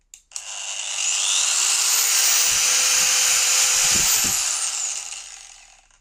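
A Haiser GA-5030SE angle grinder soft-starts, winding up gradually to a steady high-pitched whine, holds at full speed for a few seconds, then fades down.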